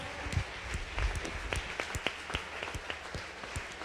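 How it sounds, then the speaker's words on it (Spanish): Church congregation applauding during a Spanish-language worship service, scattered sharp claps over a murmuring room, moderately quiet and uneven, with some individual hand claps standing out. "Exalte al Señor con su aplauso."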